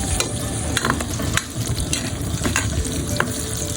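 Meat browns in a pan for Bicol Express, a constant close sizzle and crackle with scattered scrapes and clinks of stirring, loud and unbroken by speech.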